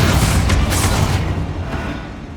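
A Bombarda spell blast in Hogwarts Legacy: a loud, deep explosive boom rolling out and decaying over a couple of seconds, with no voices over it.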